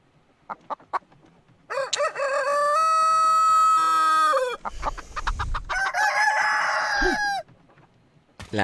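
A rooster in the video game Alt F4 crows loudly and long, close by, with chickens clucking in short bursts around it. Brief clucks open the stretch and a second crow follows later.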